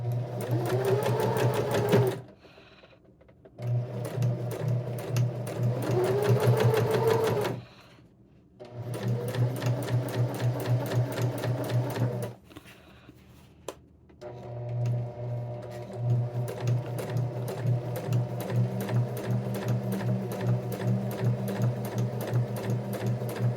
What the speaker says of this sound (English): So you're just sewing 2 parallel lines to start with.